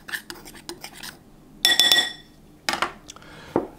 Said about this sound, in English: We put the baking powder and the salt into the flour. We just mix it up a little bit like that.